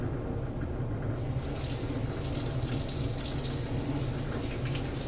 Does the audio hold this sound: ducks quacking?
no